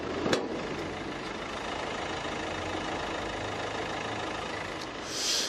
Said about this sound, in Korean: 디젤 엔진치고 굉장히 정숙한 엔진 소음을 기대하실 수가 있는 차량입니다